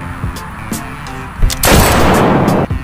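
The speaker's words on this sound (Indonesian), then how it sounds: "Mari kita coba tembak balon itu" A long-barrelled toy cobra pistol fires at a balloon, giving a few sharp clicks and pops followed by a loud burst of noise lasting about a second, up close.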